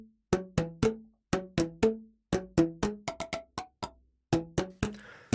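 Boomwhackers, hollow plastic tubes, tap out a melody in clear, resonant, hollow pitched knocks with short ringing decay, close and alone, in a lively marching rhythm.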